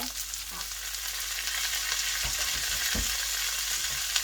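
Mixed vegetables with wood ear mushrooms stir-frying in a hot pan, a steady close sizzle with a few spatula scrapes and tosses throughout.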